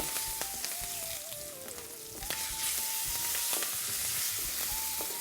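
Curry leaves and asafoetida frying in hot oil for South Indian rice dishes, giving a loud, continuous close-up sizzle and crackle with scattered sharp pops and a faint tonal hum beneath, no one speaking.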